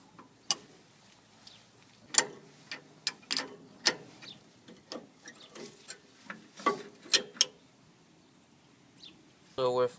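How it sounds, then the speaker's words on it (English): Hand wrench working the rear brake caliper bolts on a 1997 Mitsubishi Montero: scattered sharp metallic clicks and taps, close and fairly quiet, with pauses between them. "Now with our brake hose loosened, we're going to remove the caliper bolts."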